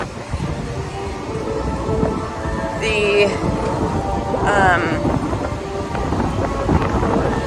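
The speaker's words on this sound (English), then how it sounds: "it is very windy up here" Strong wind buffets the microphone in a steady low roar on an upper deck of the Disney Wish cruise ship, with brief voices and background activity underneath.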